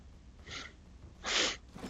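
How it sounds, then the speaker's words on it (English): A person sniffling: two short, breathy intakes through the nose, the second louder and longer, close to the microphone in a quiet room. "Sorry about the sniffles."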